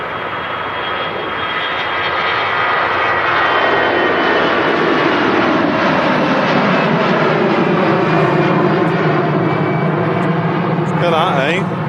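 A Thomas Cook Airbus A321 jet departs Manchester Airport with a loud, sustained engine roar that swells over the first few seconds and then holds steady, with voices talking over it.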